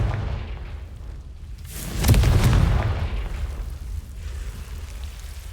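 Confringo, an explosive spell in Hogwarts Legacy, goes off as one deep, heavy boom at about two seconds, rising out of a low rumbling background and fading slowly, with no voices.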